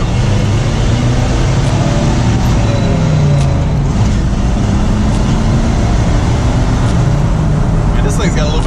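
A student-built 1963 Chevy C10 truck driving on the road, a steady loud engine and road rumble heard from inside the cab, with people talking over it.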